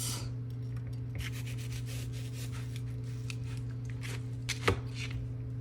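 A knife dices an onion on a cutting board for salsa verde enchiladas, with a run of quick, light chopping taps and scrapes, steady and close over a low constant hum.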